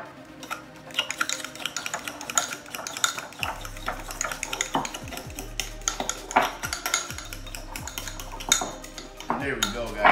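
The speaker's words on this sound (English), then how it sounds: "Give it a good whisk." Whisk clattering and scraping steadily inside a bowl while mixing a crema sauce for mahi mahi tacos, a busy, close run of metallic taps and clinks with no talking.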